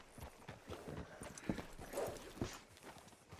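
Horse hooves clip-clopping in Red Dead Redemption 2, a few slow, uneven hoof strikes close by and quiet, with soft scuffing between them.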